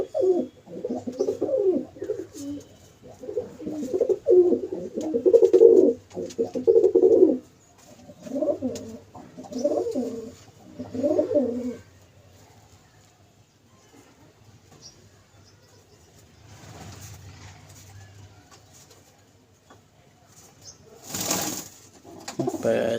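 Domestic pigeons kept for sale coo in a series of low, throaty, rhythmic bursts close by, then fall quiet, followed by faint rustling and a brief flutter near the end.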